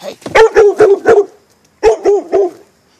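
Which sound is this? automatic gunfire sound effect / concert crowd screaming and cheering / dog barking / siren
dog barking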